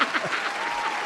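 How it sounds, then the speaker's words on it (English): Short burst of applause from a small studio group during a sports talk show segment, steady patter of claps with a voice briefly over the start. "Applause, Zuri."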